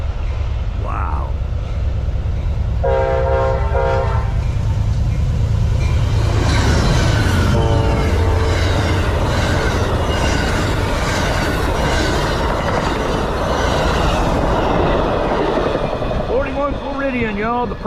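An Amtrak P42 diesel locomotive passes close by with its train, a loud continuous rumble and rail clatter with a long horn blast partway through, while people talk excitedly.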